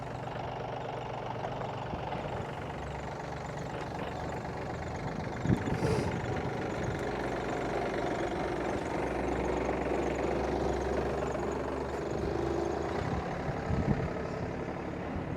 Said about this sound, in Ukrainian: Зараз трактор заведемо, послухаємо його роботу